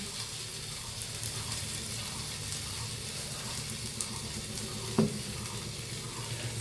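Cauliflower, boiled potato, onion and green chilli fry together in a pan with a soft, steady sizzling hiss and a single small knock near the end.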